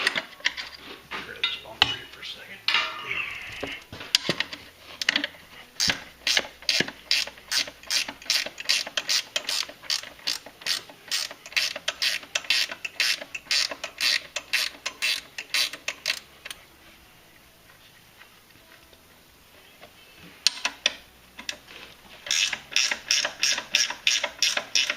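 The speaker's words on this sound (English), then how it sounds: "We're going to loosen these bolts up here." A ratchet loosens the mounting bolts on a front bumper, giving long runs of rapid, close, rhythmic clicking. The clicking pauses briefly before resuming, and there is no talking.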